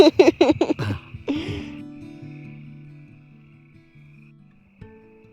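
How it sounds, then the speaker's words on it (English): Frogs by a lake croak in a quick run of rough, pulsing calls at dusk, then a steady low drone lingers quietly behind them. "we've got a lake and frogs"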